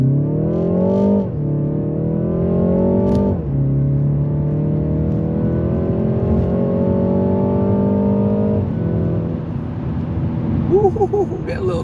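A car in sport mode accelerates hard, its engine climbing in pitch through several gear changes, loud and close with a steady rumble underneath.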